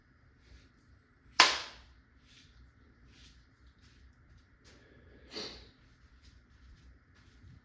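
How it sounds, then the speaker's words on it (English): Two sharp, loud shots from a Valken M17 less-lethal launcher, the first crisp and close, the second softer a few seconds later, with quiet background between them. "let's just shoot some rounds off"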